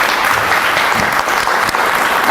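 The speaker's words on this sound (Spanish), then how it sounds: "Un aplauso para la doctora." An audience applauds a doctor after her talk at the Colegio del Estado de Hidalgo, with dense, loud clapping that runs steadily throughout.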